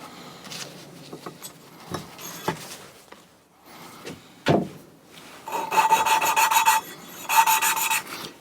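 Cylinder head valves are lapped by hand with fine grinding compound in a shed, giving scattered rasping, rubbing strokes followed by bursts of gritty, rhythmic grinding, close and moderately loud.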